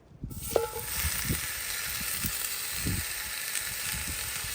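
Bacon frying outdoors in a pan at a campsite in Hackberry Hollow, Indian Cave State Park, with a steady, close, bright sizzle throughout and a few soft utensil knocks and clinks.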